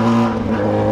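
Honda Hornet motorcycle engine running at a steady, loud, close-up drone, held briefly at a fairly even pitch.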